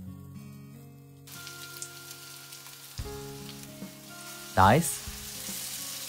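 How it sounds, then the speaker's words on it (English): Tofu and pork hamburger patties sizzle steadily in a frying pan, with a crackling hiss over background hum. One brief word is spoken, and a loud squeaky burst briefly interrupts the frying. "I place the patties on the pan."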